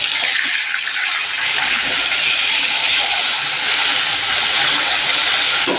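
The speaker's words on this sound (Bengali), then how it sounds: "আর এদিকে দেখো মাছটা ভেজে নিচ্ছি।" Fish pieces frying in a pan of hot oil for a home-cooked Bengali meal, giving a loud, steady, close sizzling hiss that holds without a break, with no talk over it.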